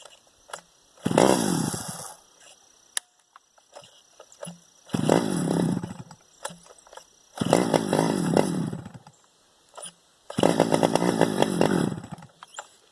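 A STIHL 009L chainsaw engine, a small two-stroke saw in rough running order and likely needing carburetor work, revs up in four loud bursts of about two seconds each, with short idle gaps between them, close to the microphone.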